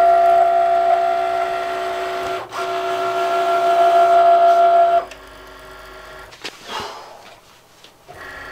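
A Cricut Maker cutting machine works through vinyl lettering for a skoolie, a loud steady mechanical whine and hum that runs for several seconds, dips briefly, then stops, leaving lighter clicks and shuffling.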